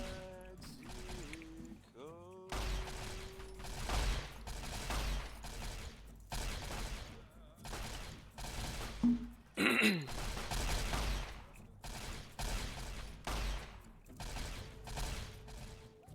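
Bursts of gunfire from a Fallout-based modded game raid on native tribes, scattered sharp cracks and volleys repeating across the clip, with people talking over the shooting.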